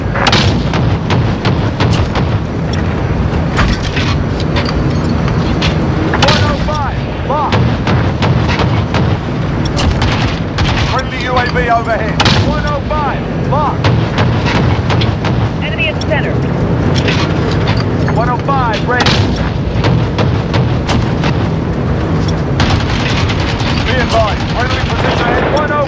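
Close air support strikes in Modern Warfare on PS5 fill the scene with loud, continuous booms and gunfire, dense layered explosions with no pause, while radio-style voices speak over the battle.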